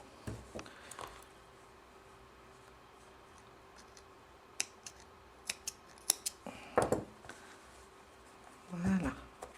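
Scissors cut crochet yarn for a Minion head with a few scattered close snips and clicks, faint handling sounds, and a voice heard briefly.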